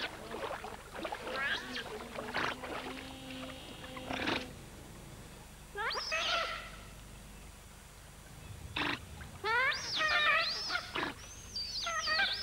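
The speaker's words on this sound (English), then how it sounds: "Giant otters are the most vocal of all otters, with an extraordinary repertoire of snorts, huffs, and sneeze-like grunts" Giant otters on a river give a series of sharp snorts, huffs and wavering grunting calls in short bursts, fairly close, over a faint background of water and rustling.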